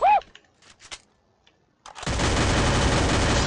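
Dense automatic gunfire from the mobile battle-royale game Free Fire erupts after a near-silent stretch and roars on steadily, loud and continuous, after a brief bird-like chirp and a few faint knocks.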